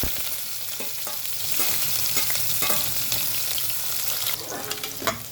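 Chopped onions and cumin seeds fry in about three spoons of hot oil in a pan, giving a close, busy sizzle with sharp crackles and stirring clatter that flares louder near the end.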